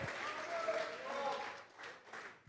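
A congregation at a Sunday afternoon church service breaks into sustained applause, a dense wash of clapping from many hands that thins toward the end, heard fairly faintly with a voice speaking over it.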